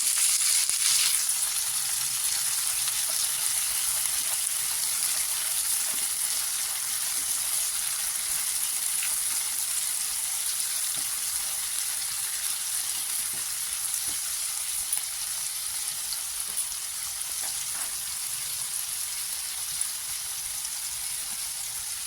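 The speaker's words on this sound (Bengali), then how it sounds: "সেই পর্যায়ে আমি এখানে দিয়ে দিচ্ছি টমেটো কুচি।" Chopped tomato sizzling in a hot pan with onions for ghugni, a steady, close frying hiss that runs unbroken throughout with no voices.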